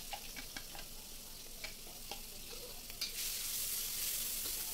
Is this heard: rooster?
no